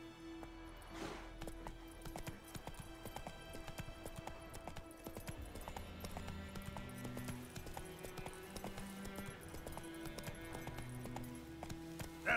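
A horse galloping in The Witcher 3 video game, a fast continuous clip-clop of hooves under game music, steady and moderately quiet throughout.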